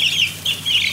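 Baby chickens peep and cluck while eating worms from a hand, high shrill calls repeating in overlapping bursts, close and fairly loud.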